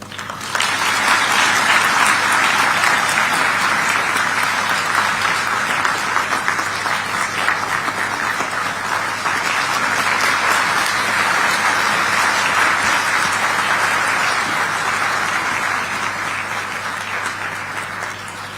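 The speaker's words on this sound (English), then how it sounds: "let's continue to applaud" Sustained, loud applause from an audience after a national address, a dense continuous wash of clapping lasting the whole stretch with no voices over it.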